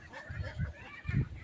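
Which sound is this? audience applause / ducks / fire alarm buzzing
ducks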